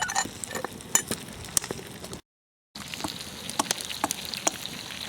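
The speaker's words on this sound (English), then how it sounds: "We'll put a lid on and just let that simmer." Pot with its lid on simmering over a campfire outdoors, a close crackling, bubbling sizzle with irregular pops, broken by a brief total dropout midway before resuming at the same level.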